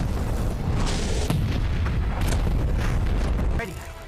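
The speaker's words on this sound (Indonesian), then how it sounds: "King's Harbor hancur total akibat ledakan besar" A massive explosion in a zombie film roars as a dense, sustained rumble of booming noise, then drops off abruptly near the end.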